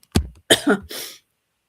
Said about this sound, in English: It's you that's coughing.